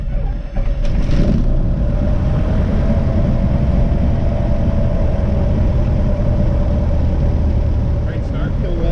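A small training airplane's engine catches and runs at a loud, steady drone close by, filling the whole stretch with little change after a brief rough start.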